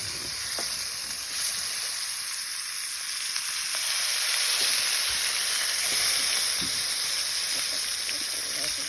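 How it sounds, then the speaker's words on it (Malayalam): Fish fry steadily in a pan of hot oil, making a continuous bright sizzle and crackle that stays close and loud, with occasional stirring and a voice speaking over it. "നമ്മളെ ഈ മീൻ കുട്ടപ്പന്മാരെല്ലാം നന്നായിട്ടൊന്ന് പൊരിയിട്ട്"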